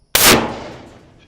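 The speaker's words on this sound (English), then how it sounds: "this is 44 Magnum against the sewer lid" .44 Magnum bear-load round fired at a steel manhole sewer lid: one sharp, loud crack with a ringing, decaying tail lasting about a second outdoors.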